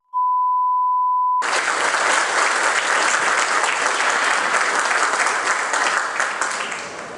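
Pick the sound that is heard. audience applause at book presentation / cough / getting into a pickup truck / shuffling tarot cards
audience applause at book presentation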